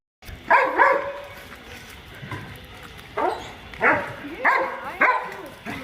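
A dog barks repeatedly nearby, several sharp yelping barks in uneven bursts with brief whimpery gaps, alone without talk.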